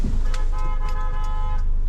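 A car horn toots in a few short bursts over the steady hum of a nearby vehicle.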